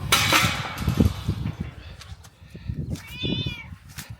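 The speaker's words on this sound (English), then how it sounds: "Oh, Mr. Cat is here" A cat meows clearly near the end, a short rising-falling call, amid scattered clinks and soft rustling sounds close by, outdoors beside a seasonal creek in standing water.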